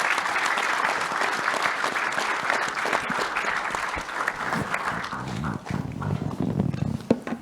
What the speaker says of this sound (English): please join me in a round of applause for our panelists this afternoon